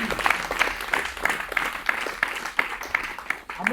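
A church congregation at a midnight prayer service claps together in a steady, quick rhythm, the claps evenly spaced and close, filling the room for several seconds.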